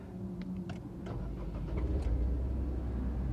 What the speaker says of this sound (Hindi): इस गाड़ी को स्टार्ट करने पर जो है इंजन किस तरह साउंड करता है